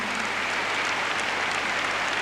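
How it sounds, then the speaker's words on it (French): An arena audience at the 1992 World Artistic Gymnastics Championships in Paris applauds a gymnast with a dense, even wash of clapping throughout. "Et le public l'applaudit"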